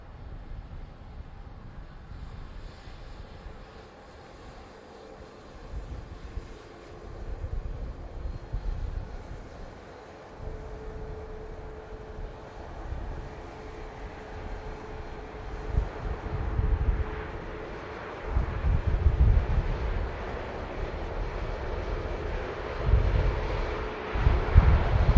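An airliner touching down at Manchester Airport in strong gusty wind, a broad low engine roar and rumble swelling and fading over a long stretch with heavy wind buffeting on the microphone, no talk.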